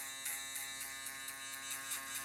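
An electric shaver buzzes steadily while trimming hair for a skin fade, its close, continuous hum rising in brief pulses as it passes over the head.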